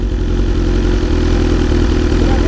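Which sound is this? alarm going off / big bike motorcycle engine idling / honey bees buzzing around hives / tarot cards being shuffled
big bike motorcycle engine idling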